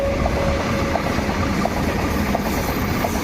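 A train rumbles past at close range at a level crossing, its wheels clacking in a steady rhythm against a dense, continuous roar.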